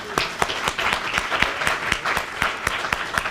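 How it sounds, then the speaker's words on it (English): An audience at an annual meeting of a regional alliance applauds with full, steady clapping. Several sharp, evenly spaced claps stand out near the front, and the applause carries on throughout with no talk. "please give all of those folks a very big round of applause."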